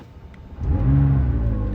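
A McLaren 540C engine fires up by push button and settles into a loud, deep rumbling idle after a quiet start, close by and steady.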